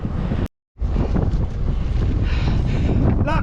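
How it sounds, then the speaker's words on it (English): Strong wind buffets the microphone during an outdoor bike ride in a steady, loud, roaring rush, cutting out briefly for a moment before the gusting noise resumes. "that wind is really picking up now"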